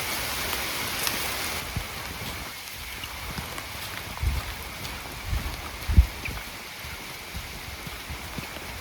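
Heavy rain falls outdoors as a steady, dense hiss, with a few low thumps and knocks rising out of it near the end.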